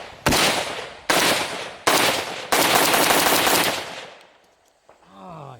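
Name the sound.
Zastava M90 rifle firing full auto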